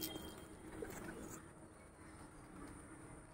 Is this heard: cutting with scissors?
no